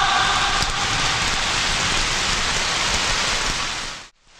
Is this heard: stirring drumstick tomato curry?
no